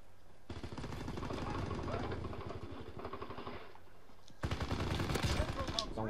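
Rapid bursts of automatic gunfire from Call of Duty WWII online multiplayer rattle in a steady stream, pause briefly, then resume louder and sharper, with a voice talking underneath.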